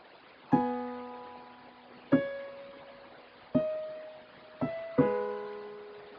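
Organ playing a song, starting from high G in the right hand and B in the left: five sustained chords struck in a slow ba-ba-ba-ba rhythm, each note ringing and fading before the next.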